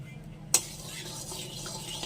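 Sugar caramelizing in hot oil crackles with a soft, steady sizzle, broken by a sharp scrape of a spoon against the pan near the start and another faint one at the end.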